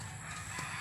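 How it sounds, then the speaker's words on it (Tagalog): Brief cluck or crow from a backyard chicken beside a garden, a short fowl call over a faint steady outdoor hiss. "Ayan ang manok namin."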